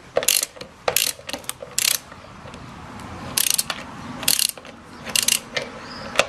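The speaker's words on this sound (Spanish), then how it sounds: "aflojar el eje de la rueda. A ver si afloja, que normalmente con una llave llega" A ratchet wrench loosens the wheel axle nut on a car, a Variant, giving short, sharp clicking bursts in an irregular rhythm, close and clear with no talk.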